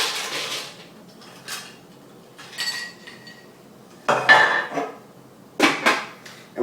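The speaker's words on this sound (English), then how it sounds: "ice, and we're going to stir it" Ice goes into a martini mixing glass in a few separate bursts of clinking and rattling, close and fairly loud, with quiet gaps between them.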